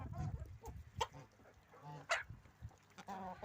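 Young chickens cluck and murmur close by in short bursts, with a few sharper squawks mixed in among the flock.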